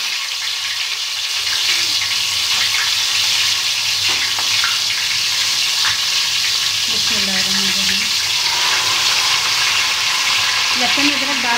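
Garlic-ginger paste frying in hot oil for Punjabi aloo gosht, a steady close sizzle with stirring and a brief water-like splash partway through, no voices.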